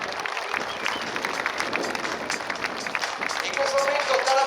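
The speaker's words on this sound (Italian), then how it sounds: "Applauso signori!" Spectators applaud at the Jesolo air show during an aerobatic display by the Red Star team flying Yak aircraft, a broad steady wash of clapping and crowd noise with a brief tonal whine rising near the end.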